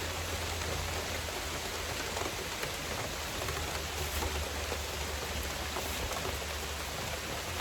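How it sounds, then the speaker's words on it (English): Steady rain pours down at a creek, a dense, even hiss of drops on surfaces with no voices, continuous throughout. "I didn't know it was gonna rain, but it is"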